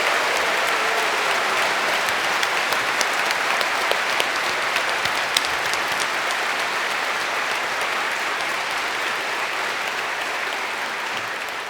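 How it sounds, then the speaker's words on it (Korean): A large audience at a church dedication ceremony breaks into sustained, dense applause, with steady loud clapping continuing throughout and no voices on top. "한번 참부님의 큰 박수를 보내겠습니다."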